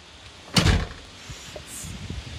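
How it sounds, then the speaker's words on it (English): A house door shuts once on a very windy day, a single close, sharp thud, followed by quieter rustling and soft knocks. "This time I'm closing the door."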